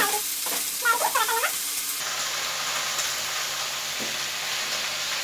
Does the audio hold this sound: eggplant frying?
yes